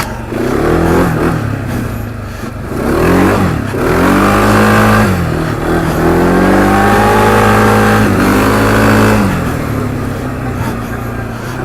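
A Textron Offroad VLX 700 big-bore quad revs and pulls hard over a bumpy trail, its engine note rising and falling in repeated surges and staying loud and close throughout.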